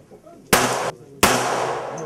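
Two sharp, loud gunshots at a military training range, about 0.7 seconds apart, each followed by a ringing, echoing decay, with faint background murmur before the first.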